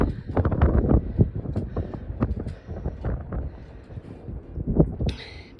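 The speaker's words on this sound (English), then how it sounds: "you can hear the wind. It's super windy" Strong wind on a cold mountain top in the Smoky Mountains, heard from inside a windowed-in structure: a steady, loud, gusty rumble with rough bursts throughout and no talking.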